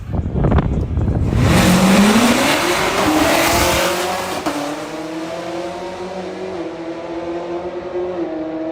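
Small-tire no-prep drag race cars launch and scream down the track at an outlaw strip, a loud burst of revving engines with tire squeal, then a sustained high engine whine fading as the cars pull away.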